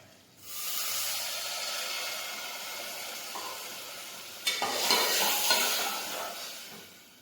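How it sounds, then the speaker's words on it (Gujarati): A loud burst of sizzling starts abruptly and hisses steadily, then flares up again partway through as water hits the hot pan of stuffed ivy gourd (tindora) curry. "હવે થોડું પાણી ઉમેરીશું."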